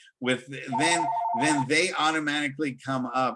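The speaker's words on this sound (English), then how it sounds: "Sorry about the phone" A telephone rings briefly with a steady electronic tone during a sports economics lecture, sitting under continuous talking.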